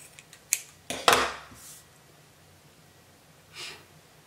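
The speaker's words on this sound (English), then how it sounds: "Now we can snip both ends." Scissors snip the thread ends of a handmade tassel, a few quiet close clicks and one sharper cut, followed by soft handling noise and a faint rustle later on.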